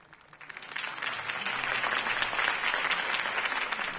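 A crowd breaks into applause at a political rally in the video game Batman: The Telltale Series, rising quickly from quiet to a steady, dense wash of clapping that holds strong throughout.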